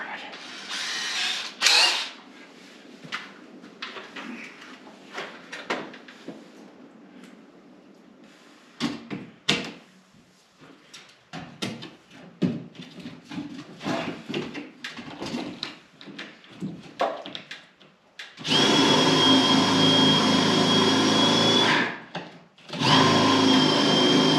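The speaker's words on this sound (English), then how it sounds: "I don't know if I can get the drill in there." A power drill whirs loudly in two sustained bursts near the end, drilling a hole for a downlight, after a stretch of clattering handling noises and brief talk.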